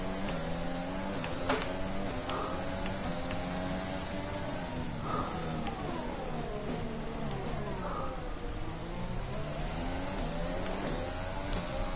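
A Ferrari Formula 1 car in F1 2020 roars steadily, its high engine note rising and falling through gear changes as it runs close and loud, with no talk heard.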